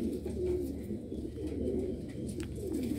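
Golden and Sailkoti pigeons coo close by in low, rolling, repeated phrases that carry on without a break.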